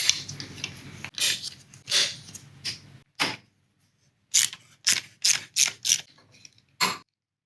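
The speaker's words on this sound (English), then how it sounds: "I think I'll just remove this bolt so I can get a good view of everything." A bolt being removed from the throttle of a Husqvarna rider mower, with a series of short metallic ratcheting clicks and clacks in quick bursts, a pause, then another rapid run of clicks, close and fairly clear.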